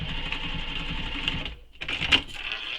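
A sewing machine runs steadily while stitching across the end of a metal zipper, a dense mechanical whir that pauses briefly and then resumes with a sharper clatter.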